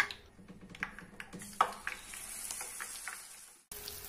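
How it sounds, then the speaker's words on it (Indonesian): Hot oil sizzles steadily with crackles and pops as battered bananas fry in a wok, growing into a dense hiss before briefly cutting off and resuming. "Minyaknya sudah panas, waktunya kita goreng."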